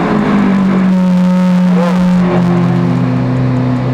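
A Lamborghini Aventador engine revs up loudly, its tone rising and falling through a couple of surges, then settles into a steady, throaty idle.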